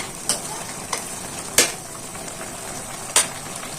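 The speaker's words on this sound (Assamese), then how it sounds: "দেখিছে নহয়, এনেকৈ লাৰি যাব।" Hakka veg chowmein noodles are stirred in a hot pan, with a steady sizzle beneath four crisp scraping strokes of the utensil against the metal, spaced unevenly.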